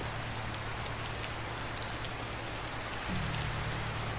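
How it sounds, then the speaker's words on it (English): Steady rain falls on an autumn day in the medieval survival game Medieval Dynasty, a continuous dense hiss of drops on surfaces over a low ambient hum, with no talking. "a rainy autumn day."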